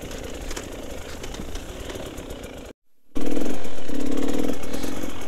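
A 2022 GasGas EC 300 dirt bike engine, heard first as a rough, busy rumble, then after a brief silence as a loud, close, steady run that slowly eases off.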